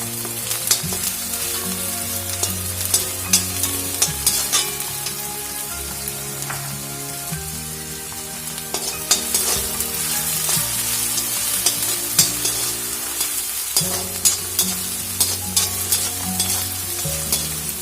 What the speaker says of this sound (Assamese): এইখিনি ভালকৈ ভাজ খাব লাগিব, এতিয়া কেঁচা গোন্ধটো নোলায়।